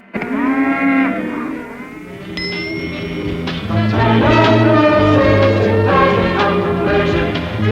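A cow moos loudly in a movie scene, with a long drawn-out low call, then a rising tone and a further sustained bellowing moo that fills the rest of the stretch, close and with no speech.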